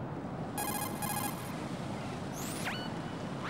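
An incoming call rings in Metal Gear Solid 2 on PS2: two short electronic ring bursts, then sweeping synthetic tones, heard alone over a low background hum.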